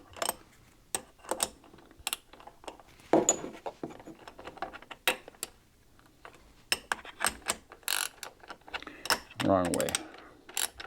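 A ratchet box wrench tightens the bench-mount bolts on a Frankford Arsenal X-10 reloading press, giving short bursts of quick close clicks separated by pauses and small clanks. A brief spoken remark is heard near the end.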